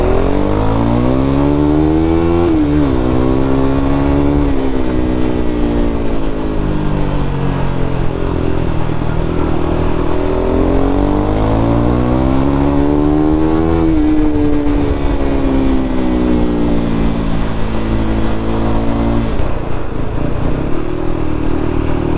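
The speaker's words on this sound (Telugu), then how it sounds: "అసలు ఆఫ్టర్ మార్కెట్ ఎగ్జాస్ట్ పెడితే ఆ సౌండ్ ఉంటుంది," Motorcycle with an aftermarket exhaust revs up and down repeatedly near a Triumph and KTM showroom in Nellore, a loud, rumbling engine rising and falling in pitch over about twenty seconds with no talk.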